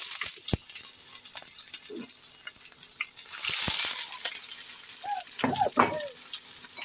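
Sliced onions dropped into hot oil in a kadai for pangas fish bhuna, a soft steady sizzle with occasional stirring clatter and a few brief kitchen noises, no talk over it.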